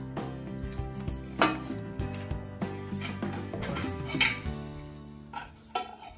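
Metal camping kettle and casserole pot handled during car camping gear setup, irregular clanks and clinks of lids and handles, close and moderately loud with ringing metallic tones between knocks.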